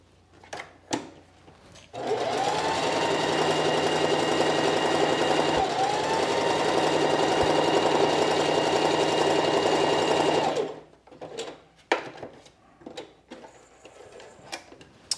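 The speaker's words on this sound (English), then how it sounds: "I have now stay stitched around the neckline and around the arm side of all of the main pieces" A sewing machine stay stitches around the neckline and armholes of sheath dress pieces, running in one loud, continuous close burst for about eight seconds, framed by quiet handling clicks and rustles before and after.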